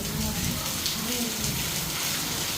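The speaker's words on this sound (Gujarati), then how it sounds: "વરસાદ વહેતો" A heavy monsoon downpour in Kalavad, Gujarat, hisses in a dense, unbroken roar of rain pounding surfaces close by.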